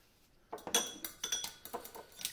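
Egg yolk being mixed with a little water and salt in a bowl for a rhubarb tart: a quiet start, then a steady run of small clinking taps from a utensil against the bowl, close and fairly faint, with no talk.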